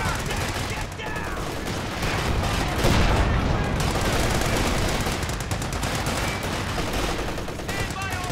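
Battle gunfire from the World War II strategy game Company of Heroes 2, dense continuous volleys and bursts with booms layered throughout, a voice speaking in the din.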